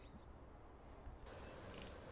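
Water rushing into a tank in the Farming Simulator 19 farming game, a steady hiss of flowing liquid that swells louder partway through, heard alone without talk.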